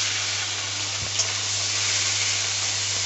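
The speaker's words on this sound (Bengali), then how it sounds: "তেল গরম হয়ে গেছে, এবার মাছ ভেজে নেব।" Giant freshwater prawns fry in hot oil with a close, continuous sizzle and crackle over a low steady hum, broken once by a brief clatter.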